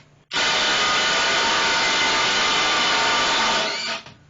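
A Ryobi P238 impact driver runs in one continuous burst of about four seconds, driving a lag bolt, loud and close, starting abruptly and winding down at the end, with no talk.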